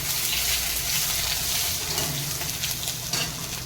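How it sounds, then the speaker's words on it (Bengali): Cumin seeds and dried red chilies tempering in hot oil for a fish curry with ridge gourd and poppy seeds: a loud, dense, continuous sizzle with bursts of crackling, close and alone. "এই জিরা ফোড়ন দেবো শুকনো লঙ্কা আর একটু জিরে ফোড়ন দেবো"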